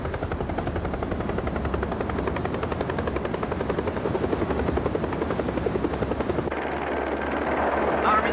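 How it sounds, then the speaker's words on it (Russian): A news helicopter approaches with a loud, continuous rotor chop and turbine whine that holds steady, then its tone shifts near the end as the craft draws closer. "Вертолет 7 News на подходе."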